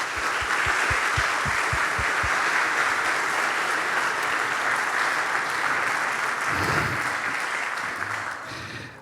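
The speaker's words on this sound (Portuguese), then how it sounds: "Você pode dar uma salva de palmas a Jesus?" Sustained applause from a church congregation at a Sunday worship service fills the space steadily, with a low rhythmic thumping early on and a brief swell of lower voices near the end before it fades.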